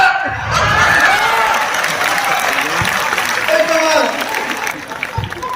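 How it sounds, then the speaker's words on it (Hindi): Audience applause at a Hindi comedy poetry gathering (hasya kavi sammelan), a steady, dense wash of clapping with some cheering lasting several seconds, loud and close, tapering slightly near the end. "तो मुझे ताली आपकी चाहिए"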